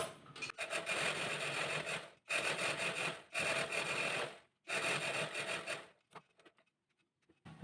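A sewing machine stitches churidar fabric in four close, fast runs of whirring, each a second or so long with brief pauses between, then a few faint clicks as it stops.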